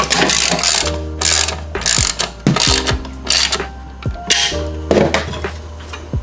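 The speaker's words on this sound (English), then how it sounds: "to secure it all together, we're going to use an M5 hex socket and a 10mm socket" A hand ratchet fitted with an M5 hex socket and a 10mm socket clicks in quick bursts of pawl ticks between pauses, loud and close, while securing an intake on an Audi B8/8.5 A4.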